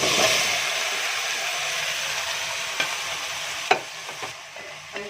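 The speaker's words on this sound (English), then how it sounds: "I'm going to stir it until the whole matoke becomes red." Green bananas (matoke) frying in a pan, a steady broad sizzle with occasional scraping clicks as they are stirred, close and alone without voices.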